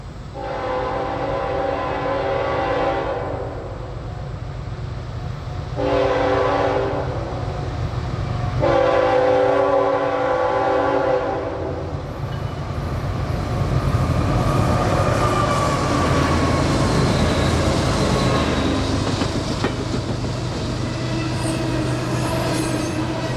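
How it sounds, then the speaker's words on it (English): Heavy container freight train 23M, led by three GE locomotives, climbs out of the Schuylkill River valley at Reading. Long horn blasts sound first, then a loud continuous roar of engines and rolling wagons with squealing wheels. "3 GEs on the point work to lift the train out of the valley created by the Schuylkill River"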